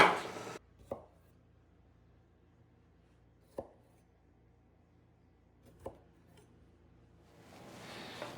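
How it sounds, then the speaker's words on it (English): A knife cuts cherry tomatoes lengthwise in half on a cutting board: three sharp, separate thunks spaced a few seconds apart, quiet and close, with near silence between them. "I want to take about a dozen of these beautiful cherry tomatoes and cut them lengthwise in half"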